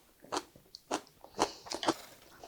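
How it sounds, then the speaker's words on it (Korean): Crisp, close crunches of someone biting and chewing lettuce that was briefly dipped in boiling salted water, heard as four or five distinct snappy bites spaced about half a second apart, with no talking. "상추가 굉장히 아삭아삭합니다."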